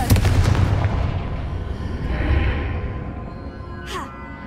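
A Confringo blast spell explodes in Hogwarts Legacy, a heavy booming burst with a rumbling tail that fades over a few seconds, followed by a brief whooshing sweep near the end.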